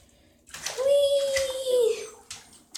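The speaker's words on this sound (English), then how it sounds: "She keeps on splashing every time she tries to get up here." A puppy sloshes and splashes water in a bathtub, with a tonal squeal rising over the middle of the clip and a few brief splashes near the end.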